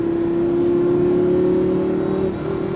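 An exotic car's engine holds a steady, loud drone on a racetrack in Las Vegas, pulling smoothly for a couple of seconds before the pitch dips slightly near the end.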